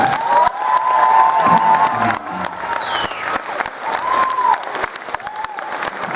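A concert audience bursts into loud applause with cheering and a few whoops, sustained clapping throughout, while a voice carries faintly over the crowd.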